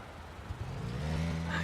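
In PUBG Mobile, a damaged buggy missing its back right tire drives away, its engine droning and rising in a steady rumble under excited commentary.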